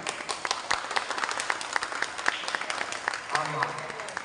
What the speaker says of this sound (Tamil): ஆண்கள் மட்டும் கைத்தட்டுவோம்